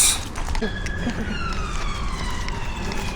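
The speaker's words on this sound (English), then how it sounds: "No clip is complete in Croydon or South Norwood without the sirens." Police sirens wail in the distance in Croydon, South London, their pitch sweeping up and down over steady outdoor background noise.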